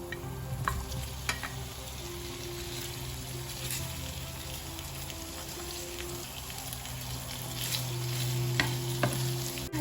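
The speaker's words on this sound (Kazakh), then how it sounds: "Міне қуырып алдық. Енді осы ортада етімізді саламыз." Meat sizzles loudly after being dropped into a pan of fried onions, with continuous frying crackle, occasional sharp pops and stirring scrapes, growing slightly louder toward the end.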